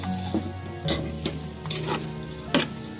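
Boiled rice being stirred in a pan for egg fried rice, with soft scraping and a few sharp clinks of a utensil against the pan, quiet and close with no talking.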